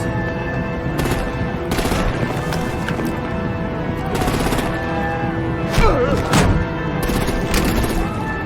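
Artillery gunfire in the video game Batman: The Enemy Within, with repeated loud bursts of shots crackling over a dense, continuous battle mix for several seconds.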